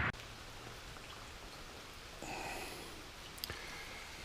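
Rain falling outdoors by remote ponds in the New Hampshire hills, a steady broadband patter of drops that grows slightly heavier midway, with a brief sharper tap near the end and no talking.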